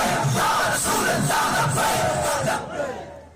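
Large crowd shouting slogans in unison at a religious conference, loud rhythmic bursts of massed voices repeating, then fading toward the end.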